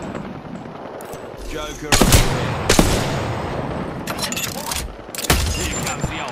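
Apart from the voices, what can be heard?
gunfire from a video game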